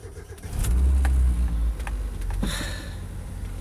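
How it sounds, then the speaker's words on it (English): A Mazda MX-5 Miata cranks and fires up in cold winter weather, a loud burst of engine catching, then settling into a rough, fluctuating idle, close by. "All right, I'm gonna start the car up."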